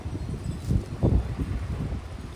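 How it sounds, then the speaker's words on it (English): Gusty wind blowing through a backyard garden of lilies, low buffeting rumbles and rustling that swell and ease in short bursts, close to the microphone, with no talk. "Why is it so windy?"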